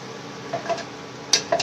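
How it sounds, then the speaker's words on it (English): Hot ghee gives a soft, constant sizzle in a pan as a mixture goes in, with a few light clinks and scrapes of utensils against the pan. "you can hear the sizzle. It's quite hot. In goes the mixture."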